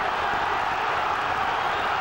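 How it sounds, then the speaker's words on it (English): A boxing crowd in Carlisle roars during an IBO world super featherweight title fight, a dense, steady wall of cheering and noise that holds loud and unbroken throughout. "Just listen to this roar from the Carlisle crowd."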